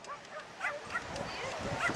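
Excited yips and barks from a dog at a lure coursing event mix with a person talking over them, close by and fairly loud.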